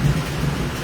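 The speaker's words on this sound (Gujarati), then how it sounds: "વીજળી પણ થાય છે કડાકા ભડાકા સાથે." Thunder rumbles low and steady through heavy rain pouring down during a storm, a brief continuous roar with no voices.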